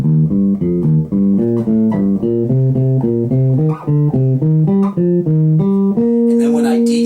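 A four-string instrument in a jazz improvisation exercise plucks a diatonic scale in ascending three-note groups, clear even notes in a steady rhythm climbing upward before settling on a held final note.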